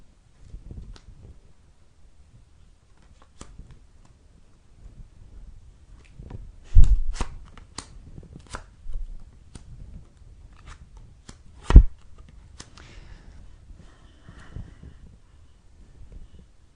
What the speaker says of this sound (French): Pendant que je place les cartes